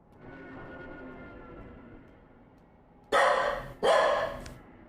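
Two loud dog barks close to the microphone, spaced under a second apart, following a stretch of quiet background hum.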